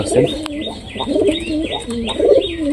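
Pigeons coo nearby in low, rolling, repeated phrases, about three bursts in a steady rhythm, with faint chirps in the background.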